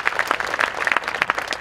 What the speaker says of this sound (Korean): 우리 같이 박수로 한번 다시 한번